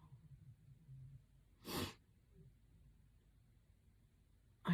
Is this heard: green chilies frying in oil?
no